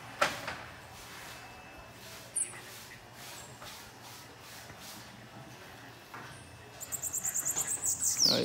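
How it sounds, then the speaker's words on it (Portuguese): Faint, quiet ambience with a few isolated chirps, then a quick run of bright, rhythmic chirping from pet Sibite birds building near the end. "Tem que arejar os bichinhos,"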